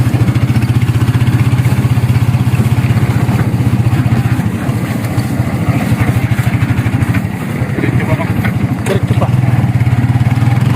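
A motorcycle engine runs steadily at close range, a low idling rumble with slight revs, while a voice speaks briefly over it in Tagalog.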